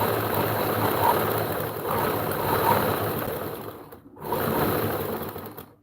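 Sewing machine stitching a lined suit shirt around the neckline, a steady close mechanical whir running almost continuously with a brief pause near the end before resuming.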